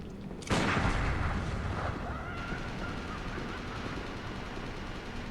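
A hunter enemy in Bloodborne fires a gun, one sharp loud blast followed by a long rumbling decay and lingering echo, with faint background game ambience.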